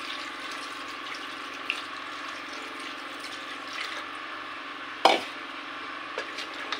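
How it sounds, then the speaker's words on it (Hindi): Water runs steadily into a cooking pot of panju curry, a continuous close pour with a brief clatter near the end. "जितना आपने पानी रखना है उतना उसमें आपने पानी शामिल करना है"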